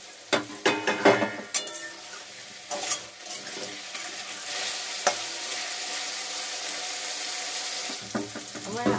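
Potatoes fry in a pan with a steady sizzle, punctuated by clattering stirs early on, then settling into a continuous hiss heard up close.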